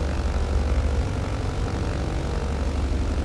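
A BN2 Islander twin-propeller plane drones steadily in a flight simulator game, a constant loud engine and propeller hum with no speech.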